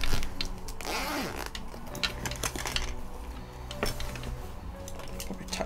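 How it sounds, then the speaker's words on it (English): A zipper being drawn closed around a packed 192-slot pen case, with a scraping zip pull near the start followed by small rustles, clicks and taps of pens shifting inside, close and moderately loud. "I just gotta get the zip up over the pens, that's all."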